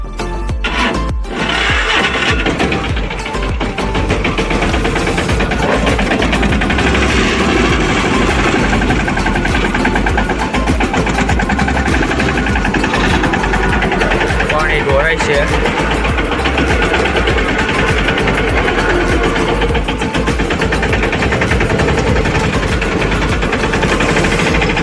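Mini tractor engine chugging steadily at close range through the whole stretch after a rough start, loud and continuous, with people talking over it throughout.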